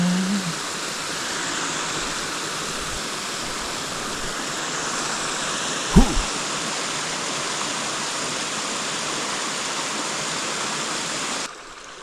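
Steady broadband rush of a creek flowing along a hiking trail between Turner Hollow and Lewis Prong, a cedar tree leaning over into the water; continuous and close, with a brief thump near the middle and no talk.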